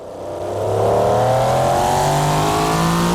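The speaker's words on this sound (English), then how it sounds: "The V16, the power is just so even" A V16-engined car in the BeamNG driving game accelerates hard, its smooth engine note rising steadily in pitch, loud and close, with no talk.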